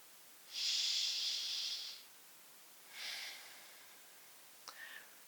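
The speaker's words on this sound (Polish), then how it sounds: "Jeszcze 2 oddechy." Soft breaths during a yoga lesson: a long hissing exhale, then a shorter second breath and a faint click, close and quiet with no talking.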